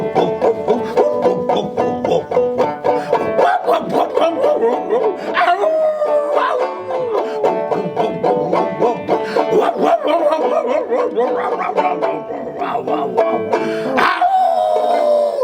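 A storyteller's voice imitates a pack of farm dogs, barking, yipping and howling in a loud, sung, rhythmic run of whoops that swoops up and down and keeps going.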